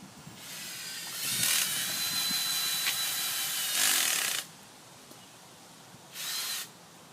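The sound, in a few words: drilling holes into the ground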